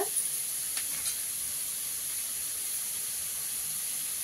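Onions fry in a pan with a steady, even sizzling hiss that holds at a constant level throughout, heard alone without any voices.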